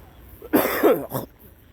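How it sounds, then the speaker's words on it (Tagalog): A person out jogging along a rural road coughs in a short, harsh burst, then gives a second smaller cough, close and fairly loud against quiet outdoor surroundings. "Inuubo na."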